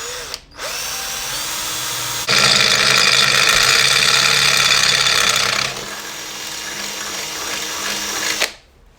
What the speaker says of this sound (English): let me just drill a hole in my bike